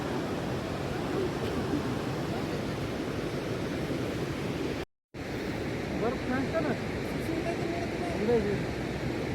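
A steady, broad rush of a river flowing near Sissu and Koksar in the Manali region fills the scene, with faint voices beneath it and a brief break midway.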